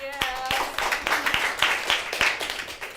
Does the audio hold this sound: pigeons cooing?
no